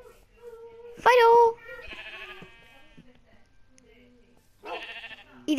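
Sheep bleating in the Minecraft video game, several short nasal bleats close by with game sounds and a person talking between them.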